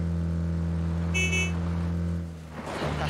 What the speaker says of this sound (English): Honk, give him a little honk.